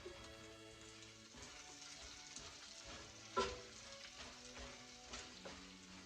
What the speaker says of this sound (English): we're actually going to be like almost frying these potatoes in bacon and butter